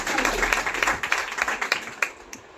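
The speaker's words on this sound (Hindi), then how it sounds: "मैं चाहूंगी इन दोनों के लिए एक बार जोरदार तालियां।" At an ADOSHA Wellness gathering in Nagpur, an audience breaks into loud applause, a dense burst of clapping that thins into scattered individual claps before fading.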